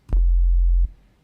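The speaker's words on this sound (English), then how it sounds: "this is a basic sine wave" A low sine-wave sub bass from an Xfer Serum synthesizer sounds as one steady, pure, deep tone for under a second, starting with a soft click and ending abruptly, with nothing else audible.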